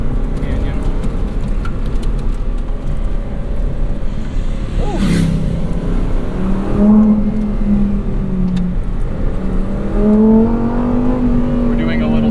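A 2022 Lamborghini Huracan sports car drives through a California canyon, its engine rising and falling in pitch as it revs and shifts, loud and fairly close under steady road and wind noise.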